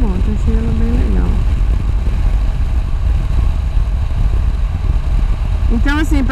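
A Triumph Speed Twin 1200 motorcycle engine rumbles steadily and low during a test ride, with a voice talking over it at the start and again near the end.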